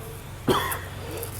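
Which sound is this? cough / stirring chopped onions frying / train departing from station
cough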